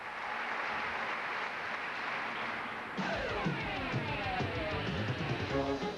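A gallery crowd at the 1995 U.S. Women's Open golf tournament cheers and applauds, a broad wash of noise that swells suddenly midway into louder, ringing cheers from many voices.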